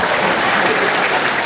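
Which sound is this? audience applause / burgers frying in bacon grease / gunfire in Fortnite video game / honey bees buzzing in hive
audience applause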